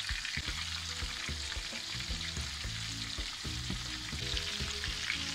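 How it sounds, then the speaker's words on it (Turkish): Chicken schnitzel crackles and sizzles steadily in hot oil, a dense continuous frying sound with occasional bubbling pops, no voices. "Nar gibi kızarana kadar kızartacağız iki tarafından."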